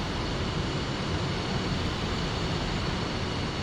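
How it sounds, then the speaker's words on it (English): A jet engine, the starboard engine of a military aircraft in the DCS World flight simulator, roars steadily, its dense broadband rumble and whine holding at a constant loud level with no pauses. "Let's get our starboard engine started."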